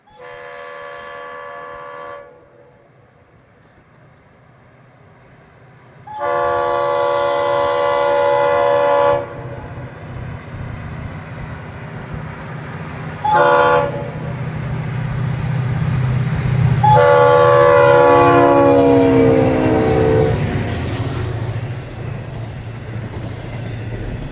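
Diesel locomotives pulling a container freight train roll past at track speed in Florida, sounding their horn in long, long, short, long blasts over a deep, steady rumble of wheels and cars that swells as the train goes by.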